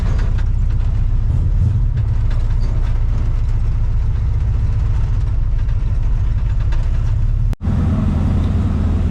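A big block 454 V8 in a Chevrolet C10 pickup runs steadily after carburetor cleaning and new spark plugs, a loud, close, continuous low rumble with one brief dropout near the end.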